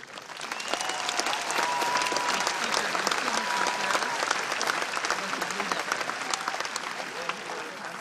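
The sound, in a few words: applause, ovation from graduation audience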